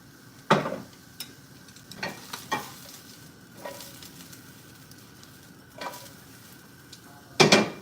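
Tofu being sautéed in a pan: sparse scrapes and sharp clinks of a utensil against the pan, separated by quiet stretches with only a faint background sizzle.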